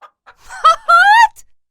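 Short clucking calls from a chicken, a couple of brief clucks followed by a louder drawn-out squawk, close and clear against silence.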